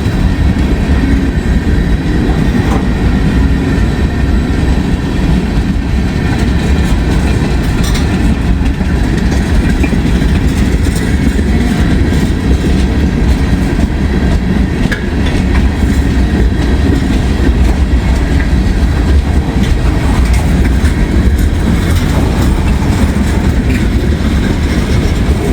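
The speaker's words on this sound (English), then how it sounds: "A long train and he's just a creeping." A long freight train of covered hoppers, with some empty cars, creeps slowly past close by, giving a loud continuous rumble of rolling wheels with faint rhythmic clicks and occasional squeaks throughout.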